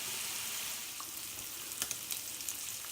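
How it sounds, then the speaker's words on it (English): Ham and green onion sizzle in hot oil with a soft, even hiss, broken by a few small pops and crackles toward the end. "Okay, our ham is still frying."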